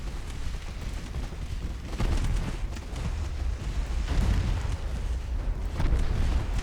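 Naval guns firing in the warship game Ultimate Admiral: Dreadnoughts, heavy rumbling booms layered over a continuous dense roar, with a few stronger blasts standing out against the sustained battle noise.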